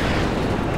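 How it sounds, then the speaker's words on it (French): A vehicle blows up in a multiplayer video game in front of a bridge, a loud, dense, sustained explosion roar filling the short clip with no talking. "j'ai explosé devant le pont. En feu."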